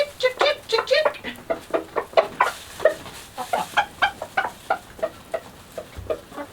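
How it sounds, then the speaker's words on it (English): In a winter chicken run, roosters call hens to food while chickens cluck in a quick, steady series of close, sharp clucks that continue throughout. "roosters are doing their job. They're calling the hens and saying, hey, there's food."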